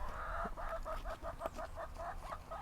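A rooster clucks in a steady run of short, repeated notes over constant low background noise, moderately distant and fairly quiet.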